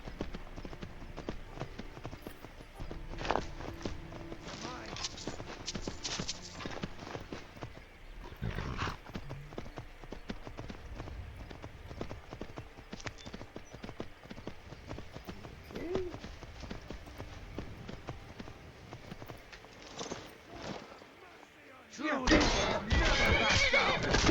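Horse hooves clip-clop in Skyrim amid game noise and talking, with bursts of heavier thuds and commotion scattered through and a loud crash near the end.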